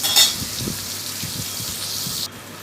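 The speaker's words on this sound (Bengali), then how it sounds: "তো এইভাবেই পটলগুলোকে ভাজতে হবে।" Pointed gourd slices frying Bengali-style in a pan, a continuous close sizzle with a few soft scrapes and a brief louder crackle near the start, no talk.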